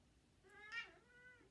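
A house cat lets out a single soft, drawn-out meow, faint and close, in an otherwise quiet room.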